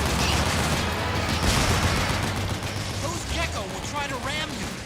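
Sustained gunfire shooting at logs in Metal Gear Solid 4, a loud dense rattle of rapid shots over heavy low rumble, easing off toward the end as whistling, warbling effects rise.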